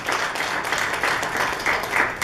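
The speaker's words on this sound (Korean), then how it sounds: "박수 한번 더 보내주시죠" Applause from an audience at a CBMC Atlanta chapter leadership installation ceremony, a brief burst of steady clapping lasting a couple of seconds with no talking over it.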